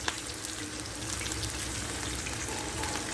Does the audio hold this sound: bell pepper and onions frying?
yes